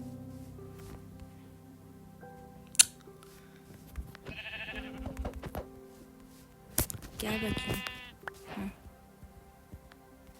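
Two bleating cries from a sheep in the video game Minecraft, sounding a few seconds apart amid clicks, rustles and a low hum, with a brief spoken remark.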